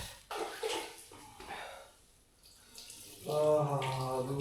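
Warm water is poured into cupped hands for washing on a cold morning in Dharchula, Uttarakhand, with close splashing and running water in bursts, the pour growing steadier toward the end, and faint breathing heard.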